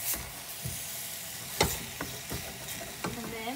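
Spices being stirred into chakalaka, a South African vegetable relish, in a hot pan: scraping spoon strokes at an uneven pace over a low continuous sizzle, close and moderately loud.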